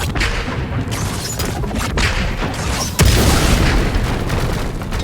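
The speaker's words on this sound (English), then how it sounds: "That bomb should help us out." A bomb explodes in God of War Ragnarok with a sudden deep boom about three seconds in, rising out of constant loud game rumble and effects, with no talk.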